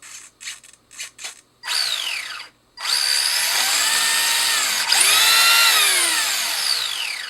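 Electric motor of a Tamiya XV01 rally RC car on a cheap speed controller whirs in short bursts, then spins up into a sustained rising and falling whine, loud and close with no talk.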